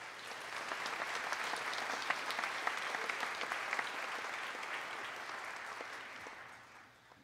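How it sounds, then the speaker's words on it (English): A synagogue congregation at a Rosh Hashanah service breaks into applause, a dense steady wash of clapping that swells, holds and fades out near the end. "Let's give them all a round of applause."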